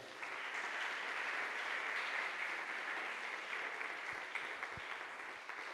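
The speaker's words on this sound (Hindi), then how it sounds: "जोरदार ताली बजाएं।" Congregation at a Christian worship meeting breaks into loud, sustained clapping, a dense even wash of hands heard at a distance and fairly faint, with a few sharper claps standing out near the end.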